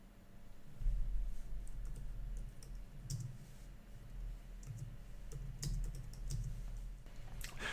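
Soft, quick keystrokes tap in irregular bursts on a small Logitech Ultrathin magnetic clip-on tablet keyboard cover, light clicks close by with a low background hum.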